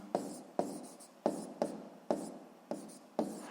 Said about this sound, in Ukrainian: Пишемо. Тоді крапку з коми ставимо.